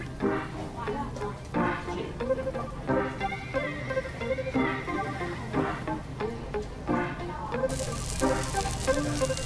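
Light rain, a little more than a sprinkle, patters steadily on an umbrella on a Tokyo street, a dense crackle of close drops that continues throughout with no voices.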